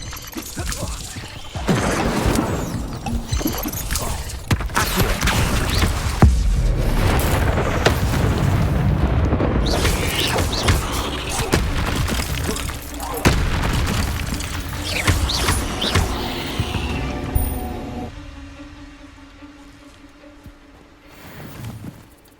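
An Incendio fire spell cast during combat in Hogwarts Legacy, with loud booming blasts, fiery roars and crashing impacts in a dense, continuous barrage that fades into a quieter tone near the end.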